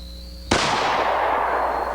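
A single shotgun blast firing 7.5 shot high velocity field load, one sudden loud crack followed by a long fading echo outdoors.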